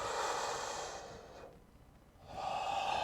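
Slow, deep breaths drawn in and let out during a yoga session, a soft airy rush that fades to near silence before the next breath swells in, close and quiet.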